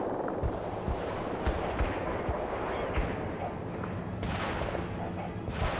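Artillery shells pound a building in World in Conflict, a string of dull thumping impacts and crackling bursts at a moderate distance, spaced irregularly over a constant rumble of battle.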